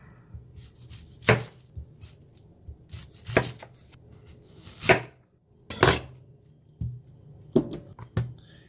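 Knife slicing mushrooms lengthwise into ribbons on a cutting board, sharp separate chopping taps spaced a second or so apart, close and clear against a quiet kitchen background.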